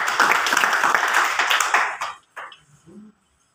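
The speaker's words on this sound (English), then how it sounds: "So another round of applause for him." Audience clapping for a governor at a Lagos water and sanitation project launch event, a brief burst of applause lasting about two seconds before fading into scattered claps and quiet.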